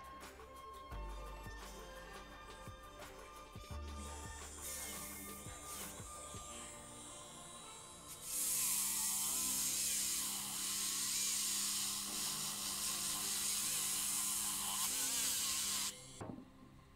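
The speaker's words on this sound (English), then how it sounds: "we are going to polish it with diamond polishing paste" A dental porcelain surface being polished with diamond polishing paste, a high-pitched whirring handpiece that runs intermittently with clicks and a low hum, then a loud, steady whine for several seconds before it stops.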